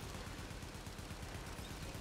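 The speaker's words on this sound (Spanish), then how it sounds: "La torreta pues simplemente mete disparos súper... que no hace daño" A turret in The Division's resistance mode fires a rapid, even burst of shots, heard fairly faint and continuous.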